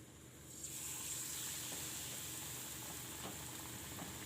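Battered Kabuli roll deep-frying in hot oil, giving a steady, close, even sizzle that holds without pause throughout, with no talking.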